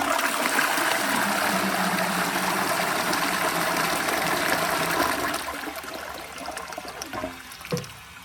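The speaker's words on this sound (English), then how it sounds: "But first, we're going to flush it." Cast iron high level cistern from the 1900s by John Bolding flushing: a loud rushing gush of water that gradually subsides into trickling and a final gurgle, close and alone.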